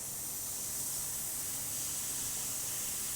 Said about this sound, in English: Let's test the steamer.